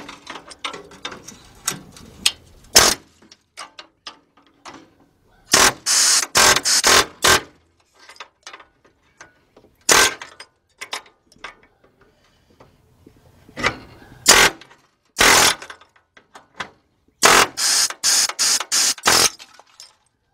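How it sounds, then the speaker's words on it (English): An air chisel cuts out a Ford Mustang floor pan. Loud, close, rapid metallic hammering comes in short repeated bursts, each a second or two long, with brief pauses between them. "So let's get our air chisel."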